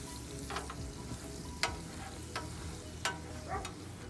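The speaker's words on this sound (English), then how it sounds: "all we're doing right now is cooking down the sauce" Sauce with beef broth cooks down on a Blackstone griddle alongside ribeye steaks, giving an even, close sizzle with occasional sharp scrape and tap sounds from a utensil.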